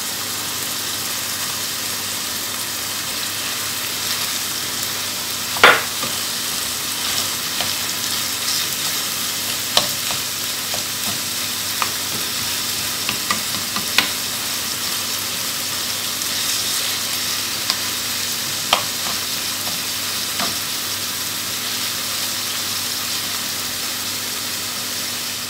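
Minced kofta meat frying in a pan and being stirred, a continuous hiss of sizzling with occasional sharp scrapes and clicks of the utensil against the pan, no speech.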